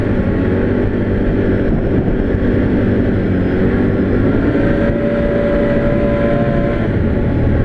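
2023 Can-Am Outlander 570 X-MR ATV twin-cylinder engine while riding, a steady, close mechanical drone with a slowly rising tone, loud and constant without talk.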